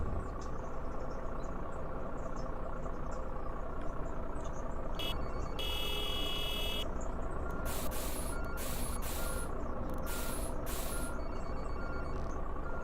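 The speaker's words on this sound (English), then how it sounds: "What is this truck doing?" A truck manoeuvres at a distance with a low, steady engine rumble, while a few sharp hisses of air brakes and a run of reversing beeps sound in the middle. Insects chirp faintly in the background.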